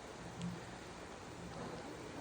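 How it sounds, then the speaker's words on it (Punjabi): Heavy rain pouring steadily in a village in Gurdaspur district, Punjab, an even dense wash of falling water with no breaks, fairly quiet and without voices. "ਪਰ ਆ ਵੇਖੋ ਅੱਜ ਫੇਰ ਮੀਂਹ ਬਹੁਤ ਹੀ ਜ਼ਿਆਦਾ ਵਾ"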